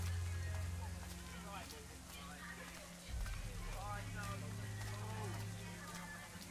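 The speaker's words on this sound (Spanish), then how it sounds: "Qué efecto tan basura de lluvia," Rain falls as a steady, even hiss in Assassin's Creed Rogue, a flat synthetic wash that lasts the whole stretch while voices talk over it.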